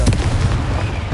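The Confringo explosive spell in Hogwarts Legacy goes off as a single loud, booming blast with a rumbling low end that fills the whole short moment at close range.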